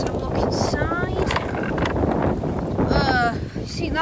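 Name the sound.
wind outdoors buffeting the microphone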